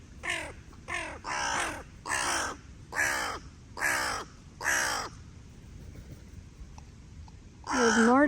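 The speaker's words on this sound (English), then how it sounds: "Now they're moving in a flock, the crows." A flock of crows cawing nearby, seven loud harsh caws in a steady rhythm about a second apart, then a short quiet gap before another caw.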